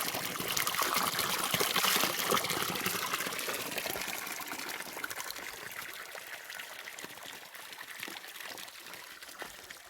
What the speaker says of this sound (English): And the water is flowing here.